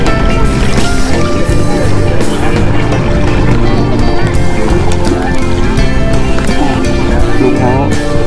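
A boat sets out onto Kwan Phayao lake, its engine and hull noise forming a loud, constant rumbling wash throughout, with people talking over it.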